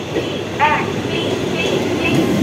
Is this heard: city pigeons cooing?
no